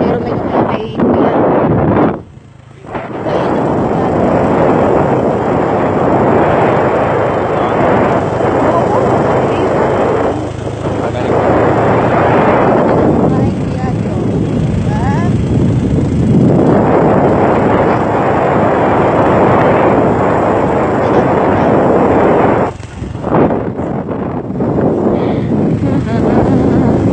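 Heavy wind buffets the microphone while riding on a motorcycle downhill, a loud, roaring rush that runs almost continuously with a few brief drops, and voices speak now and then underneath.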